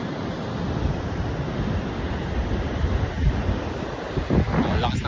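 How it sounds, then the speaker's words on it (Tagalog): Strong ocean surf crashes and rolls onto a beach at dusk, a continuous loud wash of waves mixed with heavy wind buffeting the microphone. "Lakas ng alon."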